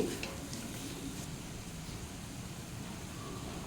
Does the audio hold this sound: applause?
no